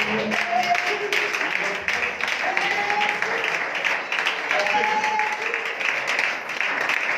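A church congregation at an evangelistic gathering applauds and cheers for Jesus, a loud, sustained wash of clapping with raised voices calling out throughout.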